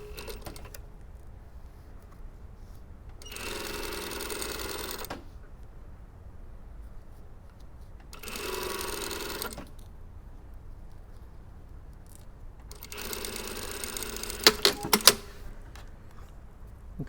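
A sewing machine stitches a pin-stitched open seam in three separate bursts of fast, even whirring, each a couple of seconds long, with quiet pauses between them and a few clicks near the end.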